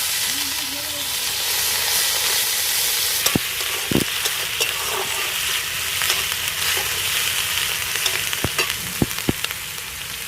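Onion paste hits hot mustard oil left from frying hilsa, sizzling loudly and steadily, with sharp stirring clicks and scrapes near the end.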